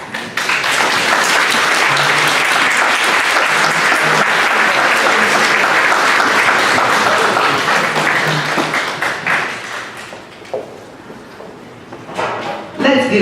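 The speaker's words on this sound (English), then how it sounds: "Let's give Jennifer a round of applause." A Veterans Day audience at the Dorothy Benson Center gives a guest speaker a long round of applause, loud and dense at first, then thinning into scattered claps before a brief swell at the end.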